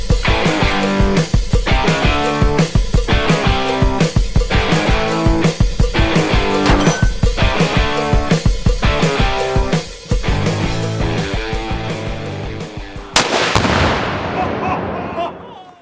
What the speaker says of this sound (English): So that was our very first shots through this gun